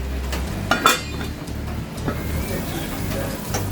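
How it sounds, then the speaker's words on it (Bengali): A covered pan of rohu fish cooked in lemon leaves is shaken on the stove, giving a few light metallic clinks and rattles over a low steady hum, with a person talking over it. "ঢাকনা খুলে মাঝে মাঝে এইভাবে ঝাঁকিয়ে দিবেন।"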